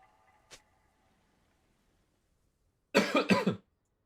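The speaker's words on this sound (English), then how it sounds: "Apologies for the coughing." Two quick coughs from a nearby person, loud and close, following a faint earlier cough, set against a quiet room during a live League of Legends esports broadcast.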